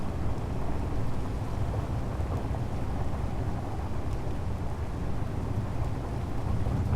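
Steady rain falls in the video game Space Engineers, a dense, even hiss with no breaks and a low rumble under it that could be thunder or weather ambience, with no talking.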